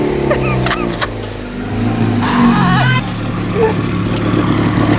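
A car engine revs with its exhaust popping and backfiring, giving a loud, steady engine drone broken by a few sharp cracks early on and rising and falling revs.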